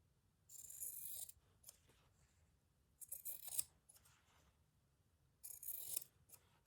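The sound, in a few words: scissors cutting fabric strips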